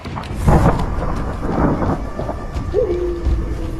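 Loud thunder rumbles with heavy rain and gusting wind as a storm effect in a Hindi horror story, with a deep rolling burst, steady rain hiss and a brief whistling tone near the end.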